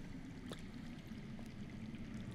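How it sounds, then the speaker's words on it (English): Steady low rushing of water flowing underground, a faint continuous wash with no voices over it. "I hear water. From underground."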